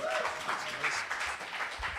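Audience at a live music venue applauding a performer, a dense, continuous spread of clapping at moderate volume from start to finish.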